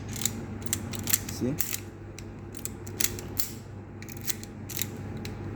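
Laser key cutting machine cutting a key for a 1998 Honda Accord, giving a faint mechanical hum with scattered clicks, ticks and a short creak, close by, with a brief spoken word.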